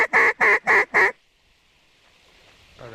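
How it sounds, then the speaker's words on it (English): Four loud, evenly spaced quacks from nearby ducks at a pintail hunt in a snowstorm, followed by quiet and a faint rustle at the end. "There's 5 big ducks out front. There's more pintails."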